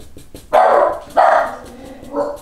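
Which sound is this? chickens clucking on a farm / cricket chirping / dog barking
dog barking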